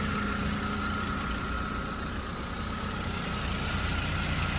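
An older Ford 1.6 car engine idles steadily and close by, with a fast, regular ticking clatter running through the low rumble.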